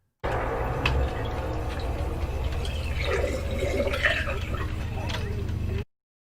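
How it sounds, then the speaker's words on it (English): Water poured into a glass gurgles and trickles with a rising fill, close and moderately loud over a steady low rumble, with faint ticking beneath and no clear speech. "It almost sounds like you were pouring water into a glass"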